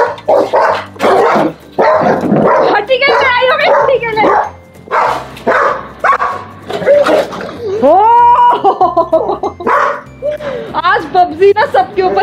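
A German Shepherd barks repeatedly in loud, irregular bursts, mixed with excited talking from people nearby.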